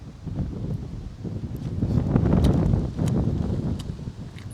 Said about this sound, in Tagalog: Tsaka ang lakas ng hangin ngayon, mga panahon na to.